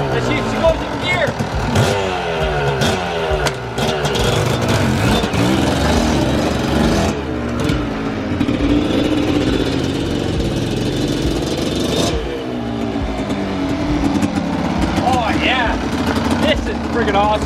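A 1993 Kawasaki KDX200 dirt bike engine running loud and close, idling and revving in uneven bursts, with people talking over it.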